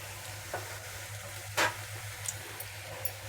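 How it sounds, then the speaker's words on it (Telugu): Black-eyed peas, potato and tomato fry in a pan with a steady low sizzle, broken by a few stirring scrapes and one sharper clatter near the middle. "అలసందలు ఆలుగడ్డ టమాటా అన్నీ బాగా ఫ్రై అయిపోయింది"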